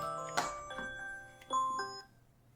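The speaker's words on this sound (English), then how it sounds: "That is the 8 p.m. Friday alarm." A phone alarm reminder goes off, playing a bright, bell-like chime tune of several ringing notes over about two seconds in a quiet room, with no talking over it.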